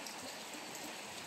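Soft, steady hiss of rain falling, faint and continuous, with no other sounds standing out.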